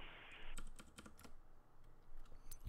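Keys clatter on a computer keyboard as a web address is typed into a blank address field, a burst of quick uneven clicks close by with short pauses, no talking.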